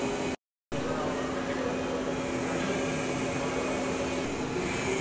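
Spindle of a VMC850 CNC precision machining center turning forward, a steady mechanical hum with a sustained whine and airy motor hiss, continuous and moderately loud with no talk.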